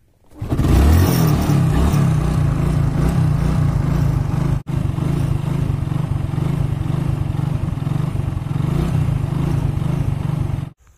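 A motorcycle rides through cold, foggy Assam countryside, its engine running as a loud, steady drone close by for nearly the whole stretch, briefly cut off midway, with no speech.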